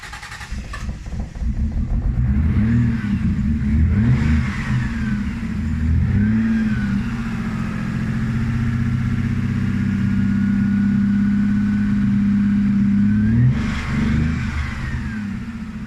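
A car engine turns over and catches, then runs steadily close by with a low, even drone that swells slightly with a few revs near the start and again toward the end.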